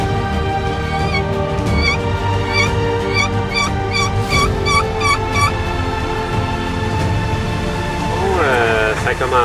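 A wild turkey gobbles repeatedly during a spring turkey hunt, the loud rattling calls coming in several bursts while a person talks over the outdoor background.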